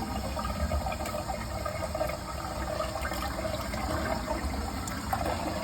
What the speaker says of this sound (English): the tank's about to fill. It's gonna fill up the bowl.